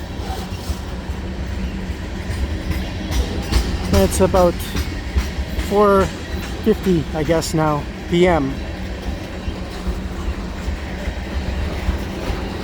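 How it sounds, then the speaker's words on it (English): A CN freight train pulled by seven locomotives rolls past at St Lambert with a continuous low rumble and clatter of cars, while someone talks over it. "that's probably a lot of the most locomotives I've seen in one train in a long, long time"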